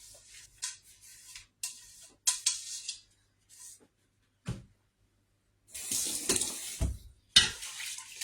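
Water splashing and running in short bursts while a cooking pot is rinsed, with gaps of silence between pours and a couple of clunks of the pot, close by.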